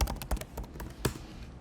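Quick clicks of a password being typed on a computer keyboard, a short burst of close, fairly soft keystrokes in an uneven rhythm.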